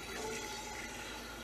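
Filtered water runs steadily from the tap of a newly installed Osmotech Ultimate Plus reverse osmosis system under a kitchen sink, a continuous close rushing stream with no talking.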